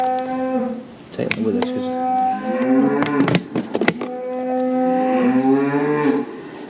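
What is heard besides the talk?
cattle mooing near feed bin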